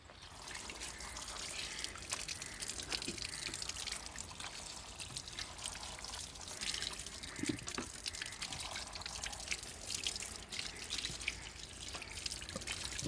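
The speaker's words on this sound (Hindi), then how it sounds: "गर्म पानी डालना है इसके अंदर आप लोगों ने" Hot water pours and trickles steadily into a milking machine, with faint drips and splashes, fairly quiet and close.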